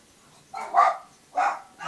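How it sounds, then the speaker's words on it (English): Dogs bark outdoors at passing deer or people, a few separate yaps spaced across a couple of seconds, moderately close and clear with no speech over them. "the dogs are barking at any deer or person that walks by"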